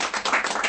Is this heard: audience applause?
yes